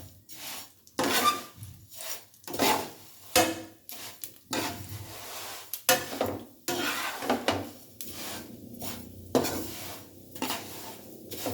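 Vermicelli roasting in oil in a pan, with repeated scraping strokes of a spoon or spatula and soft sizzling between them, close and uneven.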